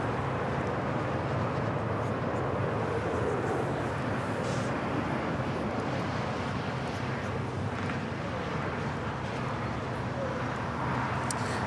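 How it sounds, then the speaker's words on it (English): A steady, broadband roar from an Airbus A321 airliner crossing a runway at Los Angeles International Airport, continuous and moderately loud throughout with a voice talking over it. "that A321 now crossing"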